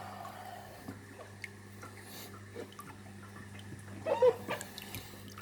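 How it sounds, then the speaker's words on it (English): Water is stirred in a container to mix in added nutrients, producing faint sloshes and soft drips over a low hum, with a brief louder swirl of splashing near the end. "So now we stir the water a little bit, we mix all what we just add."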